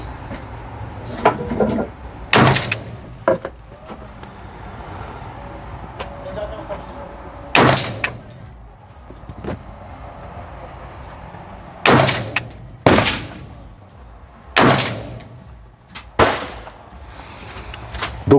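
An AR-15 rifle with a Vector Optics red dot sight fires PMC .223 Remington rounds at a range; sharp, loud single shots ring out at irregular intervals, some in quick pairs, with faint voices between them.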